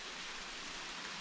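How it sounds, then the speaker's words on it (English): Rain falling steadily on a lean-to shelter, a dense, even hiss of drops with no pauses, soft and close, heard alone without voices. "It's another great sound. The sound of rain."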